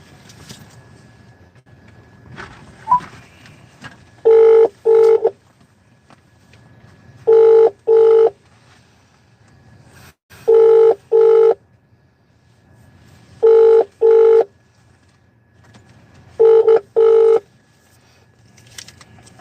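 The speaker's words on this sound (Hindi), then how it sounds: "नॉर्थ को फोन लगाइए" A phone number is keyed in as crisp, loud touch-tone beeps in quick clusters of two and three, with short pauses between groups over a faint background hiss, no voices.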